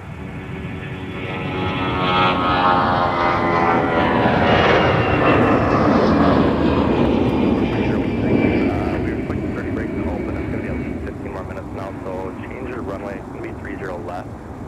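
An Embraer 145 LR regional jet departs from MSP airport, its roar swelling, peaking and then fading into the distance, with a voice talking over it.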